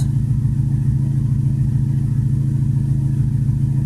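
A Mazda MX5 drift car engine runs steadily with a constant low, throbbing note, loud and close with no clear rise in revs or voices.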